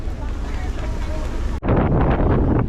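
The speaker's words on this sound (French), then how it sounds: "il n'y a plus la pluie mais il y a un vent de dingue" Strong gusts roar across a microphone at a ship port, a dense, loud rush of wind buffeting without pause, with a sudden shift in tone near the end.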